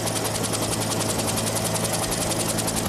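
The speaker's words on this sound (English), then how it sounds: "All the power goes up to the blades and makes the blades spin faster." A turbine-engine helicopter runs steadily with its rotor blades spinning, a loud, continuous whine-laden roar carrying a rapid, even chop from the blades throughout.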